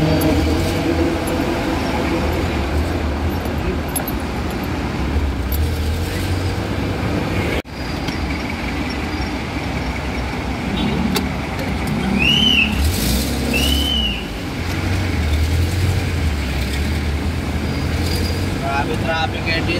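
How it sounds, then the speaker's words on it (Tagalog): Road traffic in Sambale heard from inside or beside a moving vehicle: a steady low engine and tire rumble with wind noise throughout, a brief dip midway, and a couple of short high horn-like tones near the middle. "Traffic ngayon dito sa Sambale."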